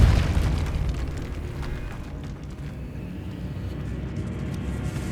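Depulso spell cast in the video game Hogwarts Legacy: a loud booming burst at the start that fades into a lingering rumbling tail, with no voices.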